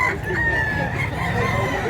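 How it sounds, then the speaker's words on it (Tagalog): Many chickens and roosters cluck and crow together in a busy flock, a steady, fairly close chorus of overlapping calls. "Dami pang manok dito mga idol."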